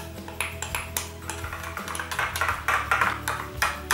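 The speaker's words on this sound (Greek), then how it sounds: "Βάζουμε το ελαιόλαδο μέσα στο γιαούρτι, ανακατεύουμε, προσθέτουμε το μέλι" A spoon stirs a yogurt, honey and olive oil face mask in a bowl, giving a steady run of light clinks and scrapes against the bowl.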